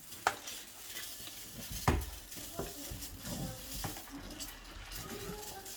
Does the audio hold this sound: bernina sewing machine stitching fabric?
no